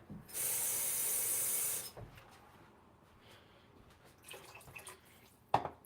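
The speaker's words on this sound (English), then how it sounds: "So I'm going to put a little bit more water in here." Water is poured into a pot of homemade chili, making a loud steady rushing splash for about a second and a half before it settles into a quiet simmer, with a brief clatter near the end.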